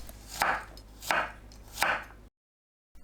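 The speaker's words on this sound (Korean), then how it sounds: "마늘은 편으로 썰어줍니다." A knife slices garlic cloves into thin pieces on a cutting board with three evenly spaced, crisp chops, each a short thud-and-scrape, followed by sudden silence.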